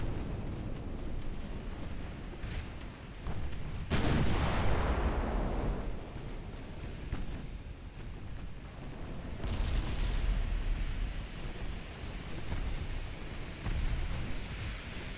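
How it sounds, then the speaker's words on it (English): Warship main guns firing in a naval video game, a dense, continuous roar of blasts and rumbling with a loud boom around the fourth second and further heavy surges later, sustained and booming throughout. "Aim main guns on that one."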